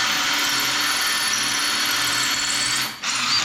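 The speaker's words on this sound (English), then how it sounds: "it can just smash the bricks apart." A loud SDS drill grinds steadily at close range while smashing apart bricks, with a brief dip near the end before resuming.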